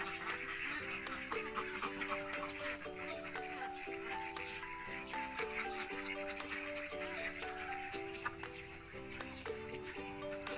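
A flock of laying ducks quacks on an egg farm, a continuous, fairly loud chorus of overlapping nasal calls in quick, uneven rhythm with no talk.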